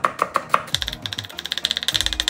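A knife slices vegetables thinly, making a quick series of crisp taps against a cutting board, first a few spaced strokes and then a rapid, even run of about twenty close cuts with no talking.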